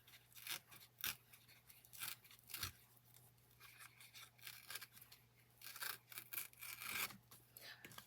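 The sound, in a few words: tearing paper for scrapbook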